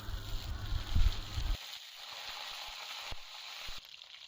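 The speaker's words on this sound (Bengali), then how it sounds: "কড়াই সর্ষের তেল গরম করে তাতে একে একে ফোড়ন দিল প্রথমে শুকনো লঙ্কা, তারপরে দিল গোটা তেজপাতা" Dry red chillies, bay leaves, coriander seeds and nigella seeds sizzling in hot mustard oil in a wok, a steady faint hiss with a low burst of activity early on, then quieter crackle.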